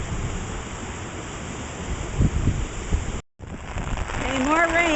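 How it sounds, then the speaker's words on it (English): Heavy rain falls steadily during a June rainstorm near an overflowing creek and railroad tracks, giving a dense hiss with brief patter, a momentary dropout, then someone speaking over the downpour. "Okay, more rain coming down."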